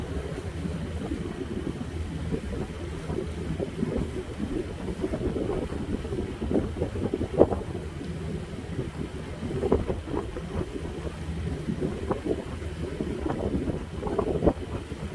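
A boat cruises along a river in Germany, crossing a water bridge, with a steady engine rumble and wind buffeting the microphone, no voices.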